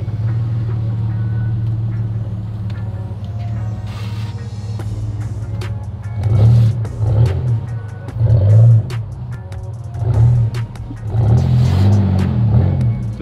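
A two-wheel-drive Ford Ranger pickup engine drones steadily, then surges in repeated loud revs as the driver floors it to build speed for a jump.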